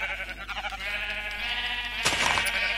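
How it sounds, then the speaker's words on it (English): Sheep bleating in the Minecraft video game: a short wavering bleat, then a second sharper one near the end, both clear and close with nothing else behind them. "Sorry, sheep. I'm extremely sorry."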